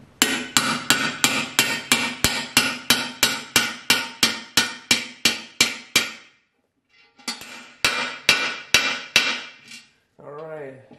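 Rapid, evenly spaced metallic hammer taps driving a bearing into a ZF5 transmission housing, about twenty in a row, then a pause and a few more sharper taps, followed by a brief voice.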